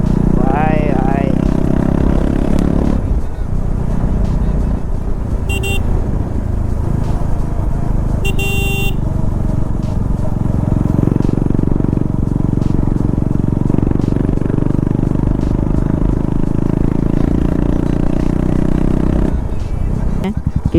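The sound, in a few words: KTM RC 390 BS4 motorcycle engine without exhaust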